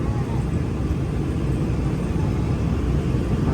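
Inside an airplane cabin in flight, a loud, steady, broadband rumble of engines and airflow drones without a break, filling the whole space.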